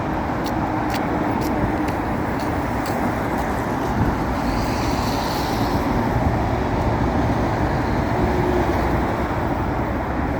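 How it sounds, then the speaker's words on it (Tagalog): Busy highway traffic with trucks roars past nonstop, a loud continuous road rumble with passing vehicles close by. "Non-stop ang truck."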